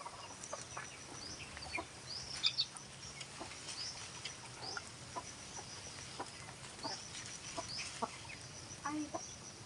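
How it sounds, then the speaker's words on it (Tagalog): Chickens cluck in short, scattered calls around a yard in the morning, fairly close and moderately loud, with a soft rustling background and no talking. "We have chickens here. Morning chicken."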